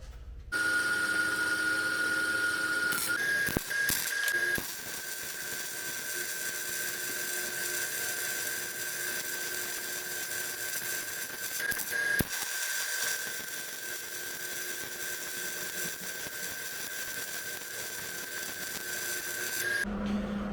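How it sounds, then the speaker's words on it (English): Welding at a performance fabrication shop, a steady crackling buzz that runs almost continuously for about twenty seconds with a few brief breaks and pops, close and fairly loud with no talking. "Let's weld her up."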